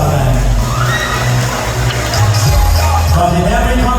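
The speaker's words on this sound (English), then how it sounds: "Let's give a round of applause. Palakpakan." An audience at a pageant claps and cheers in a steady, dense wash of applause with scattered whoops, continuous and fairly loud throughout.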